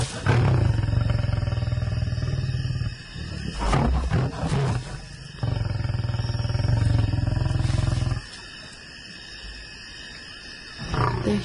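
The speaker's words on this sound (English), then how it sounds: "those growls and roars just rattle through your body" Deep, rumbling growls and roars from a male lion in the wild, close and loud, coming in long throaty bursts separated by brief pauses.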